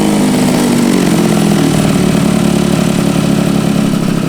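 A Derbi GP1 motorcycle fitted with a 72 kit and a Piaggio engine runs close by with a loud, continuous buzzing two-stroke drone, holding a steady high idle throughout.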